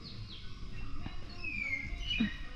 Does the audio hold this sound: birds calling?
yes